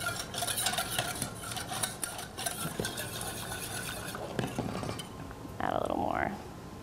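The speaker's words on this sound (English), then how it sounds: "Give it a good stir." Flour and oil being stirred in a pot for a lighter macaroni and cheese, with continuous close scraping and rubbing of a spoon against the pan and a few small clinks.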